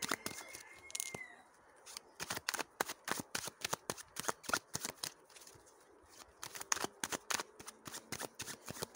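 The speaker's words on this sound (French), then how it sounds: "Je vais tirer 3 cartes de plus pour savoir quoi au niveau des énergies" Tarot cards shuffled by hand for a reading, a rapid run of crisp riffling slaps and flutters in irregular bursts, close and quiet with no talking.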